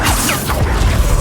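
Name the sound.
Depulso spell cast in video game Hogwarts Legacy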